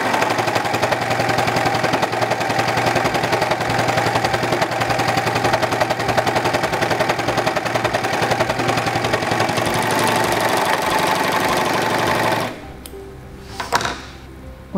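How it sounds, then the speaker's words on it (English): A SINGER 14CG754 serger sewing fabric with differential feed runs in a fast, steady mechanical chatter for about twelve seconds, close and loud, then stops abruptly and leaves a quiet room with a small knock. "lower the presser foot, and start sewing"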